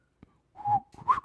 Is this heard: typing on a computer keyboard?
no